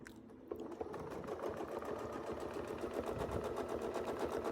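A sewing machine stitches through quilting fabric in a steady, fast mechanical hum with an even needle rhythm, running continuously and close, with no talk over it.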